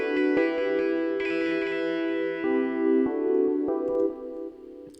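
Sustained electric guitar notes through a delay effect ring out with repeating echoes bouncing left and right after each pluck, layered under a steady wash.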